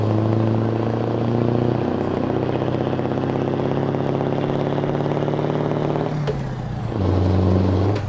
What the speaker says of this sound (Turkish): Bakın frene basıyorum ya